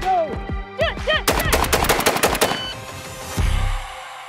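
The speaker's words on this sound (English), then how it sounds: "We did the shooting, we did the loading." Rapid gunfire from fast competition-style shooting of 100 shots: a quick, close run of sharp cracks in tight succession, followed after a short pause by one last loud bang.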